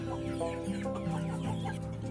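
Chickens cluck steadily and close by in a coop where birds peck each other's feathers, with layered overlapping calls running through the whole short stretch and no talking.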